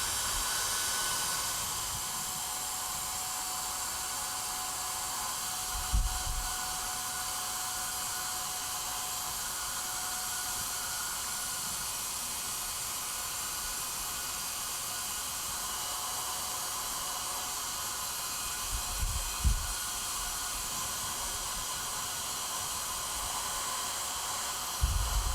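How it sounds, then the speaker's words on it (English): A hairdryer blows steadily while preheating a 2080Ti graphics card circuit board, a constant airy hiss and whine at moderate level, with a few faint low thumps of handling. "Hit it with a hairdryer until it gets uncomfortable to the touch"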